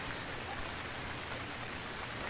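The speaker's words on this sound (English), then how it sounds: "I'm just gonna wait out the rain" Steady rainfall in the survival video game Stranded Deep, a dense even hiss of drops hitting surfaces, continuous and moderately quiet, with no voices.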